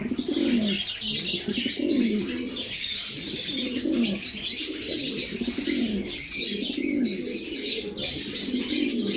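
Pigeons at a pigeon farm coo in repeated low rolling phrases about once a second, close and clear, with faint chirps and bird noise behind them and no talk.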